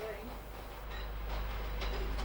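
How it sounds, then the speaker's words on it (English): A Pacer diesel unit passes on a local service along a coastal railway, a steady low rumble with faint rhythmic wheel clatter, moderately distant and fairly quiet. "A pacer unit passes on one of the local trains on this coastal route."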